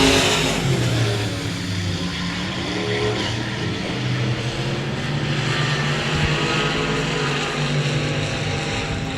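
A race car engine drones and revs through a corner at the 2017 Texas Grand, loud and continuous, swelling and easing as the car rotates with another car close behind on the chase.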